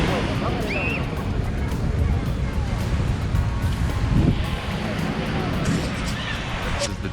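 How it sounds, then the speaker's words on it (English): Surf rolls onto a Cancun beach in a steady wash, with wind buffeting the microphone and indistinct crowd voices mingling in the background throughout. "This is the beach area."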